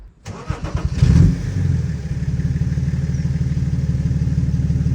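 A BMW 330d diesel (E91/E92) cranks briefly and fires up, then settles into a loud, steady, rhythmic diesel idle as it warms up, close by with no talking.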